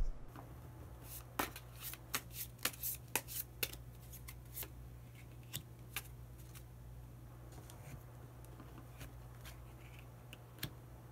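Tarot cards are shuffled and drawn in a quiet room: a run of soft, crisp riffling flicks and taps, irregular and close, with no talking over them.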